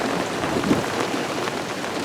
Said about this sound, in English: Look at that wall of rain coming at us.